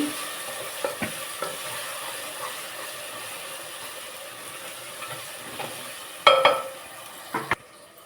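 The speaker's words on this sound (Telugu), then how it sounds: "పసుపు బాగా వేగిపోతుంది" Turmeric and boiled chicken frying in a pan for chicken biryani, a steady soft sizzle running throughout with a few sharp clinks and scrapes of a spoon against the pan near the end.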